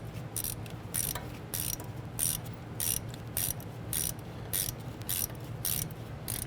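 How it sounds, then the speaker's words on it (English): A ratchet with a 10 mm socket clicks rapidly while snugging a bolt on a brake hose bracket of a Cadillac Escalade, steady bursts of sharp ticks repeating close up over a low background hum. "Use our 10 mil to go ahead and snug that down."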